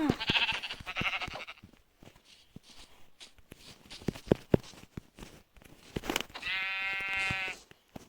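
Sheep bleating in the Minecraft video game: a clear, sustained, nasal bleat near the end, after a stretch of soft shuffling steps and scattered clicks.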